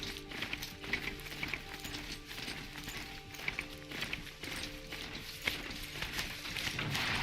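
Horse galloping in the Horizon Zero Dawn video game, a steady rapid clip-clop of hooves under game music and ambience, with the rhythm carrying on throughout.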